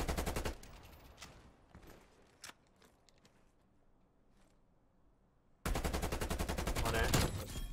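Bursts of automatic gunfire in Call of Duty: Black Ops Cold War during a 3v3 Standoff match, loud rapid rattles at the start and again near the end, with scattered single shots and quieter footsteps in between.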